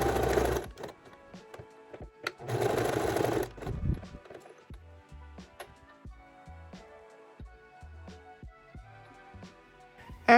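A sewing machine stitches a bikini strap in two short, dense bursts of rapid mechanical whirring, separated by quiet pauses filled with light clicks and small handling taps, all close and fairly soft.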